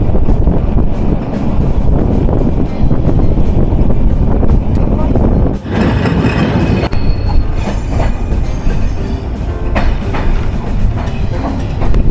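The Rupsha Express rumbles loudly along the rails on a curving stretch, a continuous heavy roar with wind buffeting and faint wheel squeal, while a voice talks in places.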